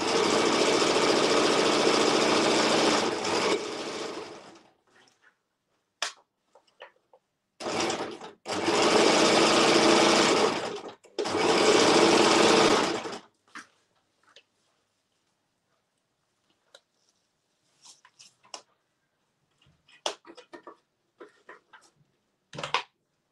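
A sewing machine stitches tulle for a birthday tutu in several loud, steady bursts of a few seconds each, separated by quiet gaps with faint clicks and handling noises.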